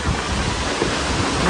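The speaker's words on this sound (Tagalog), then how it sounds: "Oh, lakas ng hangin." Strong wind gusting outdoors at an evening backyard dinner gathering, a loud, dense rumble buffeting the microphone throughout.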